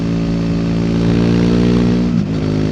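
A 2024 Triumph Speed 400 motorcycle engine revs steadily and loudly up close, holding a buzzy high-rpm drone with a brief dip near the end.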